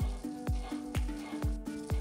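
Curry leaf chutney ingredients roasting in oil in a pan make a steady close sizzle, with a sharp clink of a utensil against the pan about every quarter second as they are stirred.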